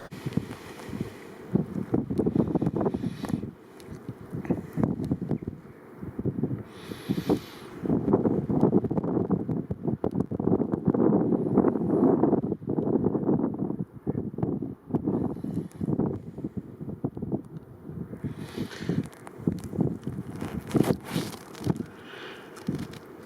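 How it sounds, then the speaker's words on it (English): Strong wind gusts buffet the microphone in waves, roaring loudly for several seconds, easing, then surging again, with no one speaking. "it's gusting every now and again and getting a bit windy"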